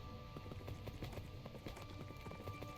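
A horse gallops in the Minecraft video game, rapid rhythmic clip-clop hoofbeats repeating steadily and fairly close, with no voices over them.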